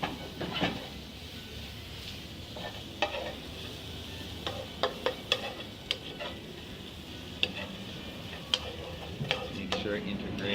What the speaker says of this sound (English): a couple tortillas I think I'll throw onto another pan that I've got heated